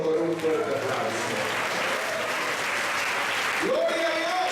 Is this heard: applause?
yes